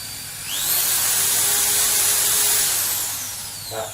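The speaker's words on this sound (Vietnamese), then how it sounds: "giới thiệu với các bạn về dòng máy khoan Maktec MT60" Maktec MT60 mini drill spins up with a rising high-pitched whine, holds a loud, steady electric scream, then winds back down as the variable-speed trigger is eased, heard alone and close.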